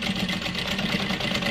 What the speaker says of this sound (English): and then we just sew the sides.